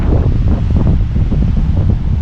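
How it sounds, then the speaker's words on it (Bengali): Strong wind on the seashore at Dublagari beach in Odisha around sunset, near casuarina trees, buffets the microphone with loud, continuous low rumbling gusts. "বাহ, কি সুন্দর হাওয়া।"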